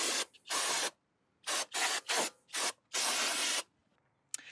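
Spray cleaner hissing onto front brake parts of a VW Passat B7 during a pad and rotor job, several loud bursts of varying length separated by quiet pauses.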